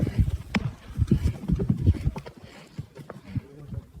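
A stallion weakened by Komodo dragon venom stumbles, its hooves clattering in irregular, uneven knocks and thuds on the ground close by, with no one talking.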